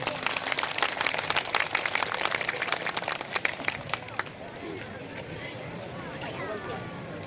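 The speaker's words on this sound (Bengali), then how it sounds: "সৎসঙ্গ চরপেশনের পরিবারের পক্ষ থেকে বিভিন্ন নেতৃবৃন্দ সবাই করতালি দিয়ে স্বাগত জানান।" A gathering crowd claps to welcome guest Nurul Islam Noyon at a Satsang event: dense, steady applause for about four seconds, then quieter room murmur.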